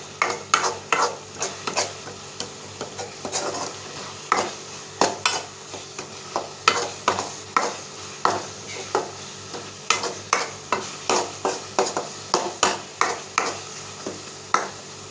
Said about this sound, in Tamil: எல்லாத்தையும் போட்டு ஒரு வதக்கிட்டு